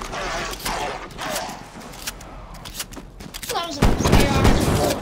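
Assault rifle in Call of Duty Cold War Zombies, fired in short bursts mixed with mechanical clatter and shuffling movement, ending in a louder, denser volley; a voice talks over the first part.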